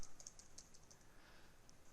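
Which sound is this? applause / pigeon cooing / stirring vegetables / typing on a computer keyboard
typing on a computer keyboard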